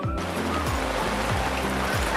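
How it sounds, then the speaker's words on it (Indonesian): Heavy rain pours steadily on a camping ground at Smiling Cinangka in the late afternoon, a constant dense wash of noise with low rumbling underneath and no talk. "Situasi sedang diguyur hujan deras di lokasi camping ground Smiling Cinangka"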